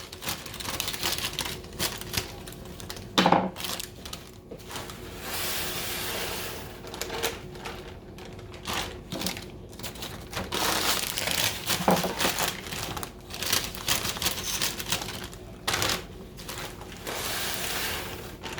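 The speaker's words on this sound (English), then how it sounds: "now we're gonna dump our malts in. We've got 2 bags of Pilsen malt." Two bags of Pilsen malt are dumped into a Beermkr brewer, making crinkling bag rustles and bursts of grain pouring that come in uneven waves close to the microphone.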